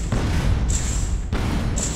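A rocket detonating in the Space Engineers video game: a loud, sustained booming rumble with a brief cut and a second roaring burst, accompanied by a high whine.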